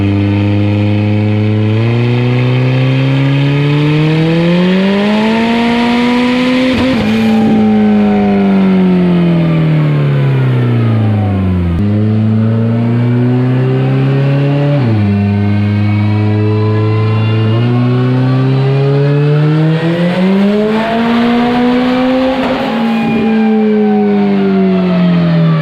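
A 1,500 hp car engine revving on a dyno, loud and close, its pitch climbing and falling in several long sweeping pulls with no talk over it.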